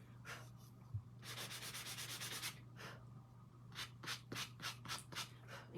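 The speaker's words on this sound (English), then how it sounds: "Now, I am going to sand some of this down just a little" Sandpaper rubs the sides of a painted wooden tier tray to distress it, close raspy strokes in short bursts with a long continuous stretch and a quick rhythmic run near the end, beneath a steady low hum.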